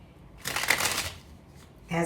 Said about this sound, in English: I always clear them and shuffle them